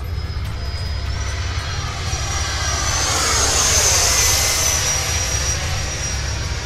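A Freewing Eurofighter v3 twin 90mm ducted-fan RC jet flies past, its steady high-pitched whine and rushing roar swelling to a loud peak as it passes overhead, then easing slightly, with no voices.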